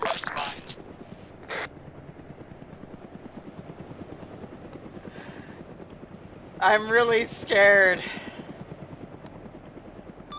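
Helicopter in the ArmA 3 video game, with a steady, rhythmic rotor chop running throughout at a moderate level while a person speaks over it briefly.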